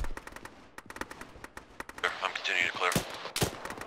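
Rapid bursts of gunfire from an Arma combat mission in a ShackTac multiplayer game, with sharp repeated shots, several louder close cracks, and a dense stretch of overlapping fire, while players talk over radio.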